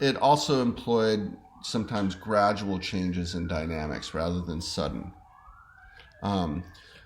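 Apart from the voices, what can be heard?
siren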